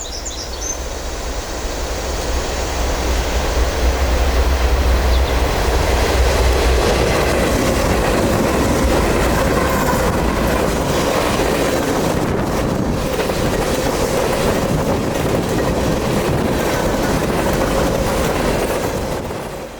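Norfolk Southern southbound train 25A, a daily intermodal from Chicago to Chattanooga running with no containers, rolls past near Harriman or Oakdale as a steady, loud rumble of wheels and cars with low engine drone throughout.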